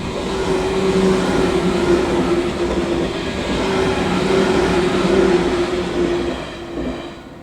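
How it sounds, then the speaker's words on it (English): A passenger train rolls steadily past nearby, a continuous rumbling roar with rail clatter and a faint tonal hum, fading slightly at the end. "And this one will be passenger train."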